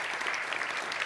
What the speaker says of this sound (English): now you can have your welcoming applause